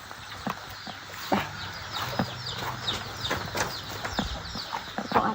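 Chickens cluck in short, scattered bursts around a rural Lao home, several birds calling near and at varying loudness over a quiet background hum.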